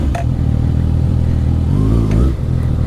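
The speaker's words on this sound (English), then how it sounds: "With the exhaust, let's see how it sounds." A Kawasaki ZX6R motorcycle engine with its exhaust removed idles loudly and close, its low rumble rising briefly in a rev midway before settling back.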